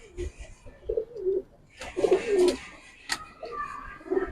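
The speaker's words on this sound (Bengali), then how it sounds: "একটা সিঙ্গেল একটা পাখি কবুতর আছে অনেক বড় সাইজের নর" A large male giribaz high flyer pigeon coos in repeated soft, throaty bursts close by, with faint handling noises in between.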